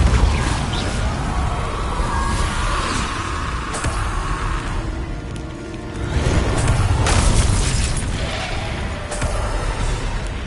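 Spell blasts and explosions thunder during magical combat in Hogwarts Legacy, a string of loud booms and crashes over rumbling game noise with no talking.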